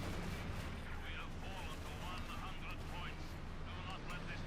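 Tank cannon fire and battle noise in the Company of Heroes 2 war game, a Panther trading shots with an IS-2, heard as a dense continuous rumble with muffled blasts beneath a commentator's steady talk.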